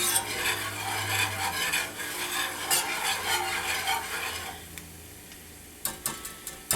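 A flour roux cooks in a cast iron pan as a utensil scrapes and stirs it in steady rasping strokes, close and moderately quiet, ending in a few sharp taps.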